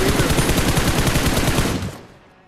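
Rapid automatic gunfire from the mobile battle royale game PUBG Mobile, a loud continuous burst of shots that cuts off and fades into quiet near the end.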